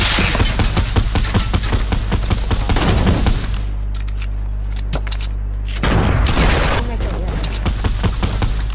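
Suppressed SCAR fire in the Fortnite video game, dense bursts of rapid muffled shots with a brief lull in the middle before firing resumes, loud and close under game sounds.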